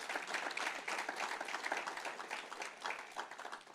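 A church congregation claps in praise to the Lord during a Spanish-language sermon, steady diffuse applause from a crowd, moderately distant and even throughout.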